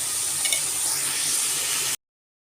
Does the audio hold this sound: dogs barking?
no